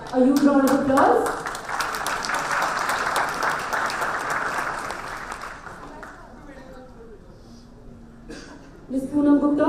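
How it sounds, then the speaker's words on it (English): An award ceremony audience applauds in sustained clapping that gradually thins out, while a voice speaks over the start and again at the end. "A huge round of applause."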